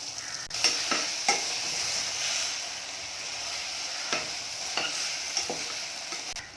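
Brinjal being stirred and fried in a pan for a tamarind gravy: a continuous gentle sizzle broken by several distinct scraping strokes of a spatula, close and moderately quiet.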